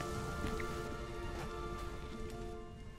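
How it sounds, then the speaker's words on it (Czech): Steady rain before a storm in the video game The Witcher 3, a dense, even hiss of drops on surfaces filling the whole span, with a faint tonal hum underneath and no talk. "Asi bude bouřka, což je fajn."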